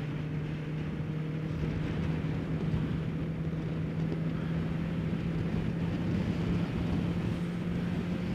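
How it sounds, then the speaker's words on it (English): Strong wind buffets while riding a 2023 Kawasaki Ninja 650 KRT ABS motorcycle in cold winter weather, a dense, steady roar with a constant engine drone underneath and no pauses. "Whoa, it's windy. Really windy."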